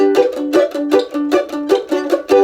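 A mandolin strummed in a steady, even rhythm, about eight bright chords ringing out alone, switching from a four-finger G to a three-finger D partway through.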